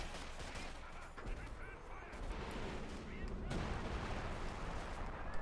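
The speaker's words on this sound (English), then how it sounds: "More rockets off." Rocket artillery in Company of Heroes 2 fires in a dense, rumbling barrage. Explosions and battlefield noise build steadily throughout.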